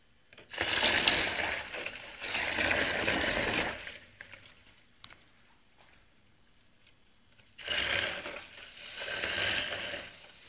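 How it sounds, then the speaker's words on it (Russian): Two small water pumps built from hard-drive motors and wired in series, powered by a car battery, churn out turbulent flow in two loud bursts of rushing, gurgling water separated by a quieter pause, with faint mechanical whirring throughout. "Работают две помпы последовательно."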